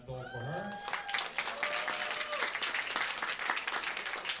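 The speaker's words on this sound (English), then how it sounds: "so an applause for her" Audience applause at a powerlifting meet's medal ceremony, a sustained round of clapping from a crowd at moderate volume, with a brief voice and tonal sounds at the start.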